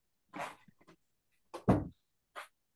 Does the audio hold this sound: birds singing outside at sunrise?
no